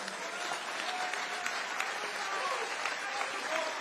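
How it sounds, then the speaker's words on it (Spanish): An audience at a forum in Tijuana gives steady, moderately loud applause with dense clapping throughout. "para quien pido un fuerte aplauso"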